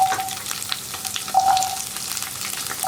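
Cut beans and carrots frying in hot oil give a continuous close crackling sizzle with small pops, and no voices are heard over it.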